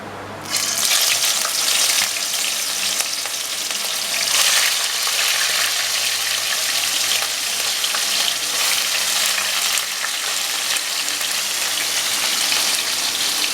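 Katla fish pieces coated in salt and turmeric hit hot oil in a kadai, bursting into a loud, continuous close-up sizzle that holds steady throughout without any talking.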